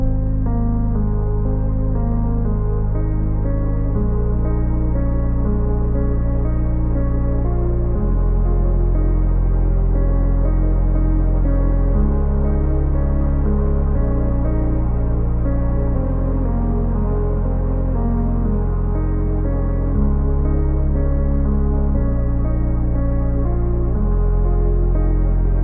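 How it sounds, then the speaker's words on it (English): Ambient piano part drenched in Supermassive reverb sits over a deep sustained bass line that shifts every few seconds, a loud continuous wash heard alone. "And in context, it sounds like this with that little piano part."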